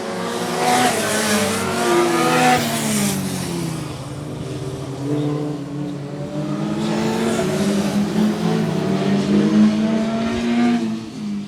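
Race car at Swaffham Raceway roaring past on the penultimate lap, loud engine whine rising and falling as it sweeps by, then a second pass, with no voices over it.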